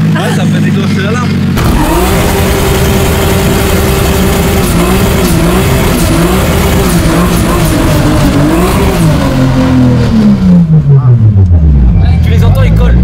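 Cars pass close by one after another on a French roadside, engines roaring loud and steady. The last one sweeps past with a falling pitch, and voices talk over the noise.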